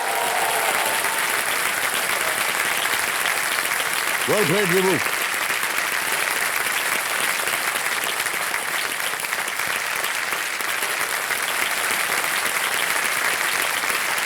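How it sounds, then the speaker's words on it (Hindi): Continuous studio audience applause on a TV quiz show, a thick, even roar of clapping lasting the whole stretch, with a voice briefly speaking over it partway through. "तालियां बजती रहें इनके लिए"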